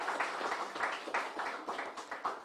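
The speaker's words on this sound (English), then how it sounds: "Give Kim a round of applause" A small audience at a Southern University event in Louisiana claps in a steady patter of many hands, fairly faint and distant, with no voices over it.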